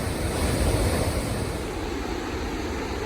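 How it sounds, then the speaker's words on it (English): Rushing water from the waterfalls and cascades of Palisades Creek along the Pacific Crest Trail, a steady broadband roar, loud and close, with no talking. "Lots of waterfalls, lots of cascades."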